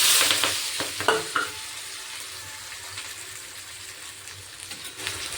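Chopped vegetables hit hot oil with a burst of crackling sizzle, then settle into a softer, steady frying hiss with occasional stirring scrapes.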